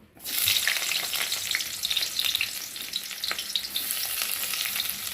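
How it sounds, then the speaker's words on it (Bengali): Chopped onion dropped into hot oil in a wok (kadai) bursts into a loud, bright sizzle that carries on steadily with light stirring, near and with no talking. "কড়াতে তেল দিয়েছি তেলটা গরম হয়ে গেছে আর এখন আমি পেঁয়াজ কুচি দিয়ে দেবো"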